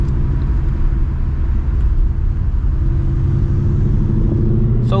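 A Ford Mustang GT S650 V8, E85 tuned with a ghost cam, idles with a deep, steady, loud rumble, lumpy and throaty throughout, close by.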